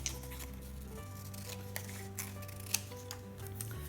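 Scissors snipping a strip of paper to make a title band, a few quiet crisp clicks and short cuts over a low steady hum, close and faint.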